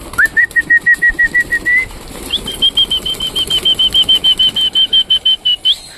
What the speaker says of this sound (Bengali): দাঁড়াও আমি এইবার সুন্দরভাবে আমাদের পায়রাগুলোকে ছেড়ে দিই।